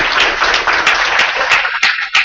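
Applause from an audience at the close of an interview, steady dense clapping throughout with a few louder claps standing out near the end.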